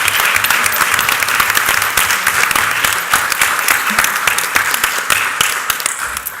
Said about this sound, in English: Yes, we definitely deserve an applause.